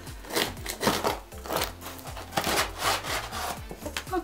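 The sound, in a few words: opening a parcel with scissors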